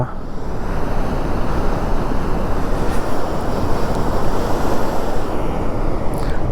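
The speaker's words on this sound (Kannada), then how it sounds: "ಫೋರ್ಸಾಗಿ ಹರಿತಾ ಇದೆ ನೀರು ಮಾತ್ರ" Loud, continuous roar of water rushing and crashing, a dense, unbroken torrent filling the whole clip.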